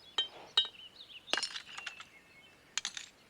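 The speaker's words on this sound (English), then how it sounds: "I break the glass up into pieces until I get a good supply" Pieces of colored glass broken up by hand for a glass craft supply give several sharp, bright clinks and chinks at irregular intervals, close by and fairly loud, with no talking.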